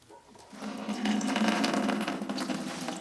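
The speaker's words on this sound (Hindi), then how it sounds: "तो यहाँ पे गर्म पानी जो है आना स्टार्ट हो चुका है, काफ़ी ज़्यादा गर्म पानी है।" Hot water gushing from a homemade electric instant geyser into a bucket, a steady, fairly loud splashing stream that starts after a quiet moment and keeps running.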